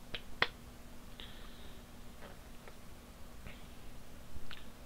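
A man gives himself a few sharp, isolated finger snaps or claps, spaced apart against a quiet room.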